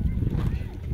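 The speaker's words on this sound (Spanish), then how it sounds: "Allá están los jinetes, la cabalgata." Horses' hooves clip-clopping from a cavalcade of riders at an ejido gathering, a busy low clatter close by that runs under constant talk.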